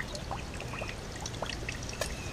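Coolant and distilled flush water drain steadily from a 2014 R6 motorcycle, a continuous close splashing trickle with no voices over it.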